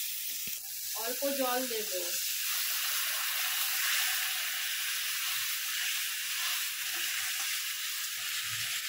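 A rice and spice mixture sautéing in a pan for Bengali khichuri, giving a steady close hiss and sizzle while a voice speaks briefly near the start.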